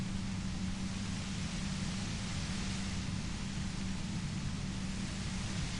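Steady broadband hiss of white noise inside the Disco Elysium video game, constant and fairly loud across the whole stretch with a low hum underneath and no talk over it.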